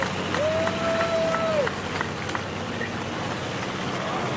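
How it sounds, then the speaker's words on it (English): Audience applause for a man walking out at a buck pull-off night event, a broad steady crowd clap with a brief whistle-like tone early on, continuing evenly to the end. "let's give him a round of applause"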